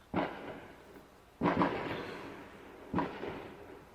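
Three separate firework explosions go off outside, each a sharp boom followed by a rumbling, crackling decay, spaced roughly a second and a half apart with quiet gaps between.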